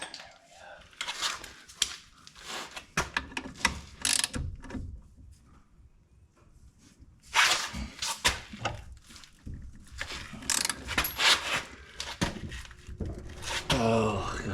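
A ratchet clicks in bursts as a fitting is tightened during a Mk60 ABS install on a Gen 2 Dodge Viper, with scattered metallic clanks of tools and parts, fairly faint and close, between pauses.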